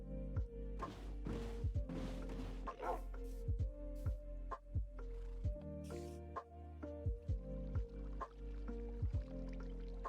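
A dog in a boat in Minecraft barks and yips repeatedly over a steady game soundtrack, the short barks recurring every second or so and sitting near and fairly loud.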